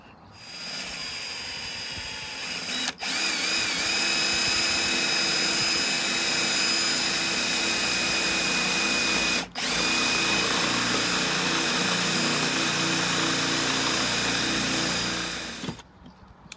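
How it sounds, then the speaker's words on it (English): A power drill bores a hole of roughly 12 to 13 mm through a caravan roof, its steady high whine running loud and close for about fifteen seconds, broken by two brief stops. "So now we're ready to drill the roof."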